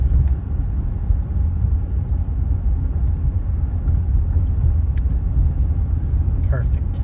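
A 1977 Chrysler New Yorker with a Carter carburetor drives on a cold engine, giving a steady low rumble of engine and road noise that holds evenly throughout.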